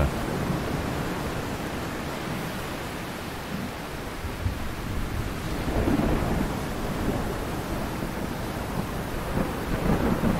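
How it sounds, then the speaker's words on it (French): Thunder rumbles roll over a steady wash of rushing water and rain-like hiss, a layered storm sound effect with swelling low booms around the middle and end, loud and continuous with no voices. "Donc, la voix de Kwanzaa et le bruit du tonnerre."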